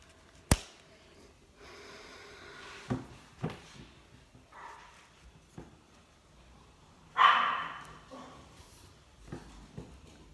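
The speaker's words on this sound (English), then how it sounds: "Sorry, that was dog." A dog barks indoors with a few sharp, scattered barks and one louder burst among thumps and handling noises, fairly near, across about ten seconds.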